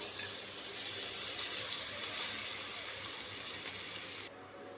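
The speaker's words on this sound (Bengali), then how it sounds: "আলুগুলোকে ভেজে নেব" Continuous sizzling of potatoes coated in salt and turmeric frying in oil, a dense, even hiss with faint crackles that drops away abruptly just before the end.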